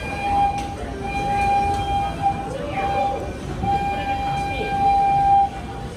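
A steady train rumble at Walt Disney World with a sustained high whistle-like tone, fairly loud and continuous for several seconds.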